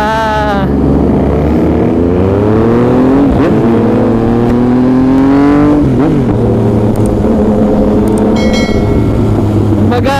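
A loud motorcycle engine roars through an aftermarket exhaust pipe, revving up and down with a rumbling, throaty tone close by.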